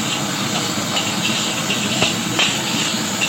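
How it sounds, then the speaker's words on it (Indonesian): Frying nasi goreng seasoning in a pan: steady loud sizzle and hiss with occasional soft scraping ticks as the spices are stirred, without pauses. "Ini kita aduk sampai bumbunya tadi agak harum dan juga tercampur rata."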